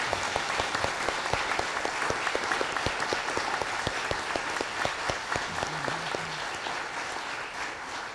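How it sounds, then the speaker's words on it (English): Congregation applause for the choir at a Unitarian fellowship service, with distinct individual claps audible over a dense wash that gradually softens. "One more round of applause for them"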